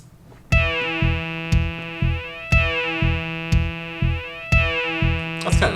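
Sonic Pi code runs threaded loops with a Zawa synth: a buzzy, sustained synth tone under regular plucked electronic pulses, repeating in a steady loop, loud and alone.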